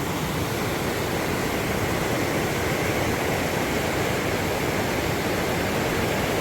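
Creek water rushes over a small dam in upstate South Carolina near Seneca, a loud, steady, broadband roar that stays constant and close throughout with no voices.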